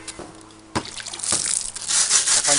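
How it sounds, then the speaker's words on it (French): Water splashes and trickles close by as a wooden board etched with burned electrical fractal patterns is rinsed. The wet sound starts sparse and builds into a denser, brighter wash. "je vais nettoyer la planche avec de l'eau"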